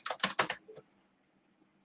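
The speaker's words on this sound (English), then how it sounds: "So when I start typing," Quick burst of about five keystrokes on a computer keyboard, close and crisp, then near silence with one faint click at the end.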